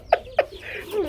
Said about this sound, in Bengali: বন্ধুরা মুরগি দেখাইতেছে বাচ্চা সহকারে